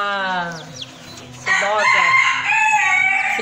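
A hen crossed from a Japanese Silkie rooster and a frizzle hen, heard close and loud in a farmyard, giving a drawn-out crowing call followed by harsh, bright clucking squawks.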